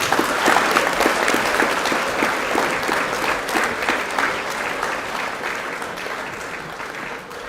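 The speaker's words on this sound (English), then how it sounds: "We might give this half of the group a round of applause." A school prize-giving audience applauds a group of prize winners, with sustained dense clapping that is loudest at the start and slowly tapers off over several seconds.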